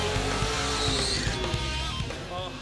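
A drag racing car's stock engine with nitrous, about 100,000 miles on it, revs and roars loudly, with a rising tone and a brief tire squeal, steady and close throughout.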